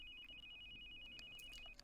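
Phone ringing in The Sims 2 on PSP: a steady electronic ringtone of quick repeated beeps, faint and thin over a low game background hum.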